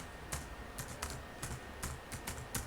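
Rapid bursts of keystrokes on a computer keyboard as an email address is typed in, irregular clusters of close, crisp clicks with short pauses between them.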